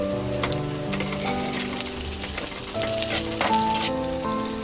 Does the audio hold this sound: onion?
yes